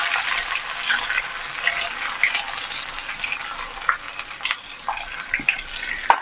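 Crushed onion and garlic stirred in a pan for a Kerala banana stem and bean stir fry, a steady light sizzle with scattered scraping clicks of a spoon against the pan, fairly close and without talk.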